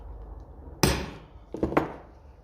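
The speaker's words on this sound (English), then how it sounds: "if I could even just get the slightest little center punch on it, just to act as a guide" Metal clanks from a hammer striking a center punch against a metal registration plate on a 1954 Ferguson 20 TEF tractor: one sharp blow, then a quick double strike, close and bright.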